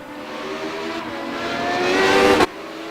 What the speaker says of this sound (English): Those guys continue to battle in the prototypes for third